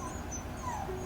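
A dog lets out soft, thin whimpers, a couple of brief high whines that rise and fall, faint against a quiet background.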